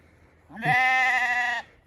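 A lamb on a sheep farm lets out a single loud, close bleat lasting about a second, a sustained nasal call against a quiet background.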